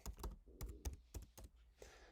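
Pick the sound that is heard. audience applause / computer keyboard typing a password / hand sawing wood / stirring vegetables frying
computer keyboard typing a password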